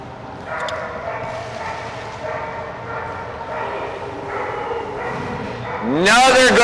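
Dogs bark amid a steady wash of crowd noise beside the pool at a Dogmode dock diving event, the barks blending into the busy background with a voice over it and a louder rise of sound near the end.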